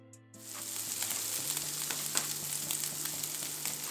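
Green chillies stirred and frying in a pan for sabudana khichdi: after a brief moment of quiet, a dense, even sizzle swells up and holds steady close by, with small scraping stirs through it.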